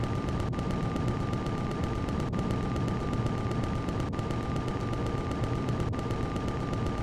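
Guns of a small ship fire in Empyrion Reforged Eden, a sharp shot landing about every two seconds over a steady, loud roar and a thin constant hum.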